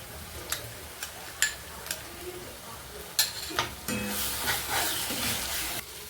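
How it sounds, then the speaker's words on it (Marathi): Ground spice paste (vaatan) dropped into hot tempering oil with onion and coriander leaves for a crab curry, giving scattered crackles and clinks, then a steadier close sizzle toward the end. "त्यानंतर आपण इथे जे वाटण वाटलेलं आहे ते टाकूयात फोडणीमध्ये।"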